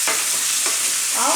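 Sliced potatoes and onions frying in a pan, a constant close sizzle with a couple of soft stirring scrapes as they are moved around; no voices.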